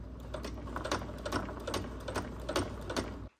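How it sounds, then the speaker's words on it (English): Sewing machine stitching the elastic waistband of a skirt, a steady rapid mechanical whir with rhythmic needle clatter, running close and continuous before stopping abruptly at the end. "let's start sewing. Back stitch at the beginning."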